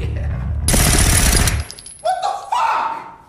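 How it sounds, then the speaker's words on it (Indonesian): Rapid gunfire in a film action scene as men in a warehouse shoot wildly at enemies, a loud dense burst of shots lasting about a second before cutting to quieter shuffling sounds. "Kemudian mereka menembaki semua musuh dengan ngawur."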